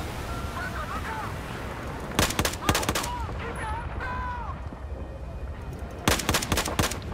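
Gunfire from Battlefield 4: sharp cracking shots come in two short bursts over a busy battlefield backdrop with whistles and rumbles, fairly close and loud.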